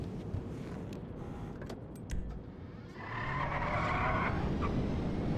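A car in the game GTA Online drives and skids, with sharp tyre squeals and engine noise rising toward the end, fairly close.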